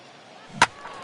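Bat striking a baseball in the video game MLB 15 The Show, a single sharp crack over quiet ambient crowd noise.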